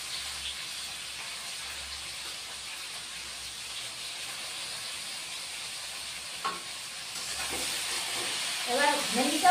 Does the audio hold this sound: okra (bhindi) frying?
yes